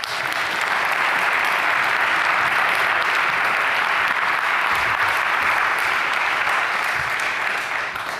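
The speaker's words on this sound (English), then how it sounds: "Your applause." A lecture audience applauds continuously, a dense, even wash of many hands clapping at moderate volume that lasts throughout without any talk.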